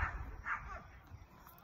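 Several neighborhood dogs bark and yip at a distance in a residential yard, faint and intermittent, with a voice talking faintly nearby.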